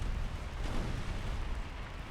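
A torpedo detonates in the naval warship game Ultimate Admiral Dreadnoughts, a loud, deep rumbling blast that fills the whole moment and rolls on steadily without a break.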